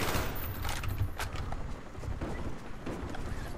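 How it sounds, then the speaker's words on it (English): Gunfire in the Black Ops video game during an extreme bot survival mod match, a steady dense stream of overlapping shots and rattling bursts that keeps going throughout, with scattered sharper reports standing out over the din. "Oh, somebody's shooting at me back there."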